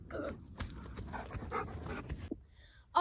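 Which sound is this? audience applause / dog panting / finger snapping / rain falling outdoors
dog panting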